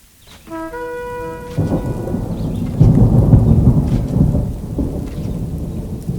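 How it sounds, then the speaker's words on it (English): Thunderstorm with rain from the video game Age of Empires 2: a low thunder rumble swells in after a brief tonal chime, then heavy steady rain pours loudly throughout. "Soon a strong storm began."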